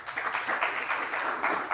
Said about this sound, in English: let's give Dr. Mohai a round of applause